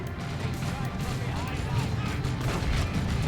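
Plague Marines fire bolt guns in the Warhammer 40k strategy game Dawn of War 2, a steady rumble of distant, overlapping bursts running under continuous talk.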